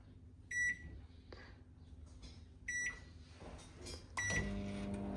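A microwave oven heating chocolate for 30 seconds: short high beeps repeat a few times over a low hum, then the motor starts a steady drone, quiet and close.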